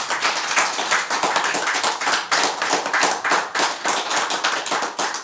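A studio audience on a music show claps for a musician guest, a close, bright, dense patter of hands that continues steadily and evenly throughout with no speech.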